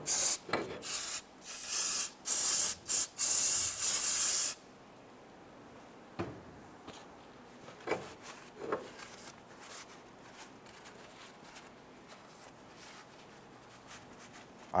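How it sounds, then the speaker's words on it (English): Spray solvent hisses in several close, loud bursts onto a Nissan Versa front wheel hub during bearing replacement, followed by quieter clinks and handling noises. "go ahead and use some spray solvent"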